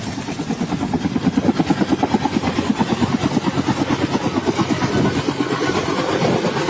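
A Sri Lanka Air Force Bell 212 helicopter flies close by on disaster relief work near the Lunuwila bridge, its rotor beating in a loud, fast, regular thump that holds steady throughout.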